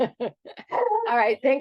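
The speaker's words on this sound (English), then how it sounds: "Oh, there's my crazy dog." A dog gives a few short yips and then a longer whining, whimpering bark sequence at close range, mixed with a man's speech.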